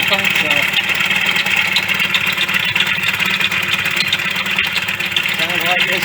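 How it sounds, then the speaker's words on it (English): A 1988 Yamaha DT50MX two-stroke engine runs steadily up close with a buzzing, rattling note from loose internals and a suspect crankshaft, continuous and loud, with a voice talking over it. "Sounds like there's something floating around in the engine, doesn't it?"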